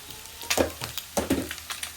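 Ginger garlic paste fries in a hot pan with oil, giving a crackling sizzle and short stirring scrapes, close and moderately loud, with no talk.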